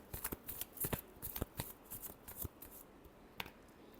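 Tarot cards are shuffled by hand in a final shuffle, a rapid series of crisp close riffling snaps and flutters in uneven bursts that thin out toward the end.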